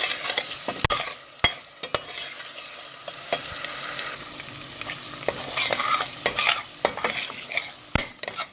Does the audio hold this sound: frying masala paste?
yes